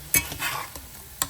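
Spiced turkey with hot sauce sizzles softly while browning in a pan, with a few quick scraping strokes of a utensil, close and fairly quiet.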